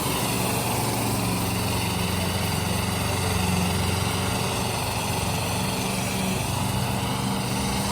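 Arjun tractor engine labouring in a tractor-pulling contest, a loud, steady, continuous drone with a rough low rumble and constant high whine throughout, no letup in load.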